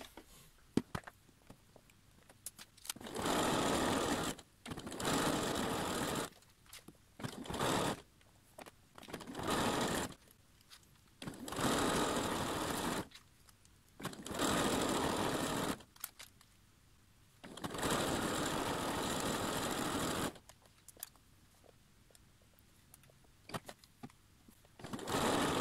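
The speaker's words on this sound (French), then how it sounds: "Donc, je passe à la couture." Sewing machine running a stretch stitch along a T-shirt's V-neck neckband, in repeated bursts of steady whirring a few seconds long, separated by short pauses with faint handling noise.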